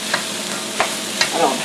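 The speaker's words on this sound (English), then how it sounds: "So I'm mixing that all in. Mix it throughout. Stir that up." A rice mixture gets stirred in a hot pan for Spanish-style rice, a soft continuous sizzle punctuated by three brief scraping strokes of the utensil, close up.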